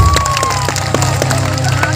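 Crowd clapping and cheering for a village head at an orchestra show during a Durga temple consecration, loud and steady throughout, with a tonal music line running underneath.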